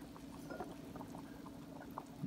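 Vinegar is poured into simmering pork pata, giving a faint, steady bubbling and trickling wash that stays low and even throughout with no talking.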